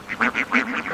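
Free-range ducks give a run of about six loud, close quacks in quick, uneven succession that fill the whole second.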